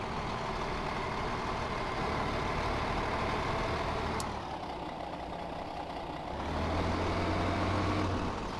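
A Kenworth truck engine in the video game Farming Simulator 15 drones steadily and loudly throughout, dipping briefly midway before the low rumble swells again.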